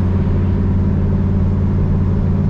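A 1969 Chevrolet Camaro RS/SS X22 code car with a Muncie 4-speed drives along, its V8 giving a loud, steady low rumble with no talk over it.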